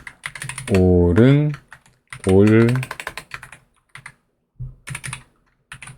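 Computer keyboard typing in a Termux Ubuntu terminal on a phone setup, with a tap of the Tab key, heard as light clicks between and under a man's close speech.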